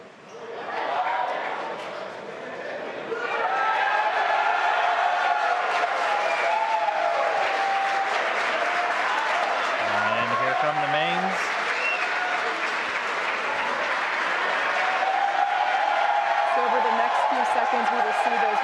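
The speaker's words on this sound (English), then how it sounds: "You can hear cheering here at SpaceX headquarters as the employees that have gathered around our Mission Control" Employees gathered around Mission Control at SpaceX headquarters cheer and applaud in a sustained, dense wash of clapping and crowd noise that swells after a few seconds and holds steady, with a voice talking over it.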